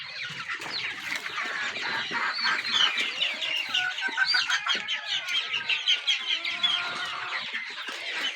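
A desi hen clucks repeatedly on a poultry farm, close and fairly loud, with a steady run of short clucks and warbling calls that continues throughout, with no talking.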